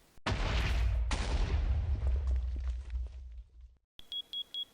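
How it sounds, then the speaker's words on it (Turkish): Loud explosions and crashing blasts in Minecraft roar through a destroyed city for several seconds, then fade into a short silence before a repeating electronic fire alarm beeps in evenly spaced bursts. "Yangın alarmları da ötüyor. Şehir yerle bir olmuş. İşte patlamalar da devam ediyor."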